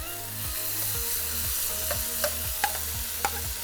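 Beef strips sizzling and crackling as they are stir-fried in a hot pan, a steady close fry punctuated by a few sharp ticks and spatula scrapes, with no talking.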